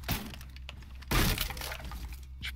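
Glass and a mirror shatter in a video game: one sharp, bright crash rises over a steady wash of game noise, with fainter cracks around it.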